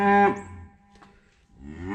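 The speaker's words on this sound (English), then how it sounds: "Cows all lined up over there. Being a little impatient, as you can hear." Several cattle lined up awaiting feed on a farm, giving loud, close, drawn-out moos at the start and again at the end, with a quieter pause between calls.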